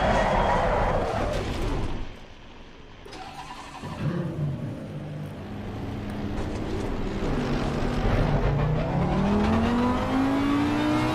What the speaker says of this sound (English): I trail braked it around the corner